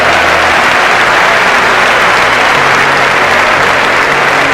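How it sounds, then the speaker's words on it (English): Audience applause at a motivational speaking event, a dense, loud, steady clapping from a large crowd that continues for several seconds without talk. "Give her a round of applause, all right?"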